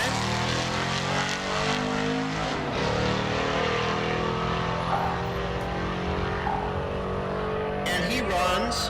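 A Factory 5 kit-chassis car makes a drag strip pass at the SRCA dragstrip in Great Bend, Kansas: a loud, sustained engine roar that climbs steadily in pitch as the car accelerates away for the full run.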